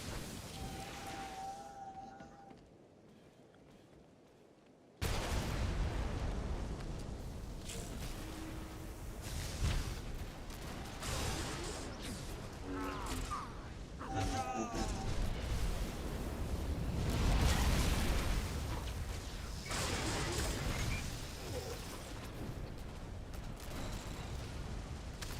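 Turret fire and explosions from a battle in the video game The Old Republic, a dense continuous roar of blasts and rumbling booms that swells toward the middle, after a brief quieter lull near the start.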